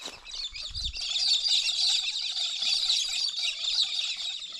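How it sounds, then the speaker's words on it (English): Many small birds chirp and twitter continuously in a lively chorus at an evening waterhole near Hay, New South Wales, with a brief low thump near the start. "Plenty of birds."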